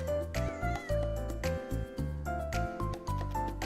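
A cat meows repeatedly in the video game Little Witch in the Woods, a string of short tonal mewing calls over steady game music, with no talk.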